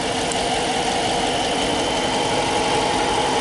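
2015 Dodge Charger R/T with a 5.7-liter V8 Hemi idling, a steady, close, low rumbling drone with an even mechanical hum and no revving or speech.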